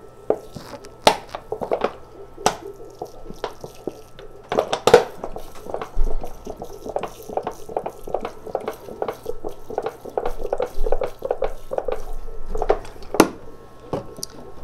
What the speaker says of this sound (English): Let's give it a little water.